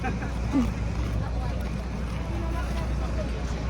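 Steady low rumble of boat engines as boats arrive at a harbor in Infanta, Quezon, with wind noise across the microphone and faint voices in the background.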